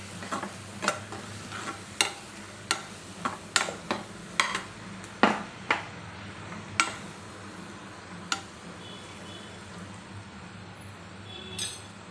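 A spoon stirs turmeric and red chili powder into sautéed onions in a pan, giving a dozen or so sharp scraping clicks at an uneven rhythm over a low, steady sizzle, fairly close and without any talk.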